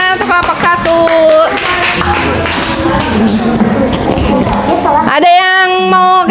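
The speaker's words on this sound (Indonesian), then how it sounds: "Tepuk tangannya untuk kelompok 1" A classroom audience claps for a presenting student group, a dense burst of applause with crowd noise between spoken words at the start and end.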